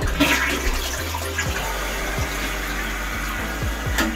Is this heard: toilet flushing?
yes